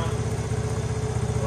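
A Honda TRX70 ATV with a new exhaust idles steadily nearby, a fairly quiet, even low putter with a regular pulse over the short stretch.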